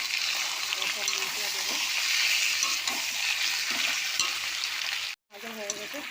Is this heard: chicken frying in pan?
yes